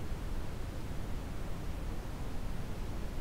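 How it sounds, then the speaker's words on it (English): Continuous, even broadband noise with a soft rumbling character, steady and unchanging throughout with nothing else present. "brown noise has always been the one that I've personally liked the most"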